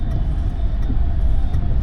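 A family car driving through heavy monsoon rain in Mumbai, heard from inside the cabin as a steady low engine and road rumble with a faint hiss, no talk.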